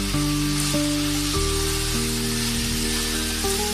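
Chopped tomatoes with a pinch of salt sautéing in a pan for butter chicken give a steady, close sizzle, continuous for a few seconds with a tonal hum underneath and no talking.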